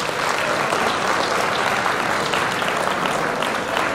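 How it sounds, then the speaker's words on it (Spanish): A crowd at a Fiesta de Mollendo party in Paterson, New Jersey breaks into loud, sustained applause, a dense wash of clapping that holds steady for about four seconds. "yo pido un fuerte aplauso para este proyecto Puerto Bravo"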